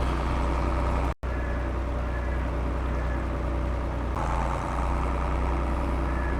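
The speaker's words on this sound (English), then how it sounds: "Definitely not the fastest way into town with this tractor" A tractor drives along the road into a small town, its engine a steady, loud low drone with one very brief dropout, no speech.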